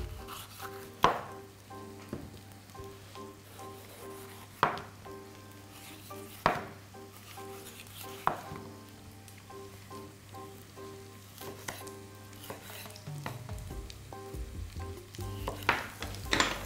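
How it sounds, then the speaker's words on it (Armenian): Red and green peppers fry in seasoned vegetable oil in a pan, a quiet steady sizzle broken by periodic sharp clinks and stirring knocks of a utensil, with no voices. "համերված բուսայուղով կտապակեմ կարմիր և կանաչ պղպեղներ"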